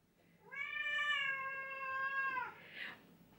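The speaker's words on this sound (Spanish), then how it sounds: "Está encima del puff maullando para que yo me siente" A cat perched on a pouf meows once, a long and clear drawn-out call close by, then gives a brief softer sound at the end, in a quiet room.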